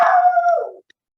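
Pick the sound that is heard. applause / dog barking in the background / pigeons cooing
dog barking in the background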